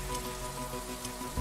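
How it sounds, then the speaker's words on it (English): Rain falls in the video game The Riftbreaker, a dense, steady hiss of drops over a low electronic hum and game tones, heard alone with no talking. "This rain is harmless to our base, but it decreases solar panel efficiency until it stops."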